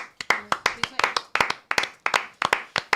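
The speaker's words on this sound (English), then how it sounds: "Round of applause." A small group claps for a football podcast's production crew. The claps are crisp and close, fairly evenly spaced and repeated quickly for about three seconds, with no other sound between them.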